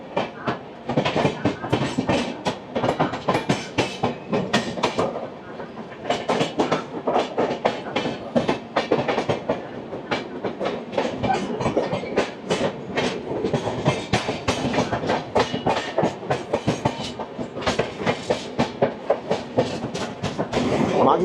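The Gatimaan Express rolls along the rails, its rapid clickety-clack beating loud and steady under the rumble of the moving coaches.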